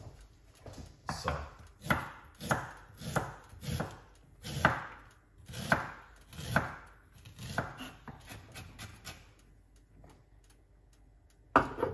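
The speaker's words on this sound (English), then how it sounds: "I'm cutting up some fresh ginger." A knife chops fresh organic ginger on a board in a run of crisp, evenly spaced strokes, about a dozen sharp cuts with brief pauses between them, close and clear with no talking.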